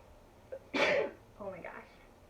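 A single sharp human sneeze bursts out near the mic, loud and brief. A small intake sound comes just before it, and a shorter voiced sound trails off after.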